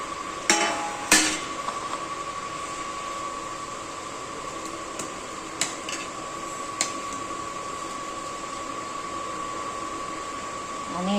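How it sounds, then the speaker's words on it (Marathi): A mixer grinder grinds roasted peanuts with a continuous whirring drone and a steady tonal hum, broken by a few sharp knocks and rattles of the jar. "आता हे शेंगदाणे मध्ये वाटून घ्यायचे"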